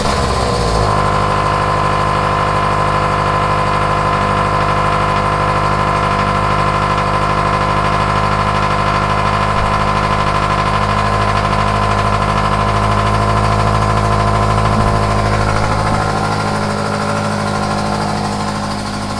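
A Toyota GT86 engine fitted with UEL headers starts up and then settles into a steady, loud idle, close by and droning without a break.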